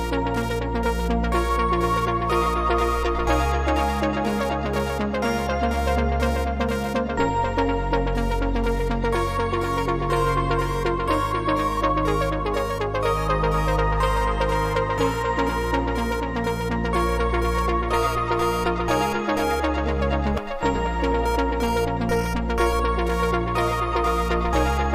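A plain saw-wave synth with delay plays in a melodic progressive house track, a bright, buzzy sustained line over pulsing bass and drums, loud and continuous with no voices.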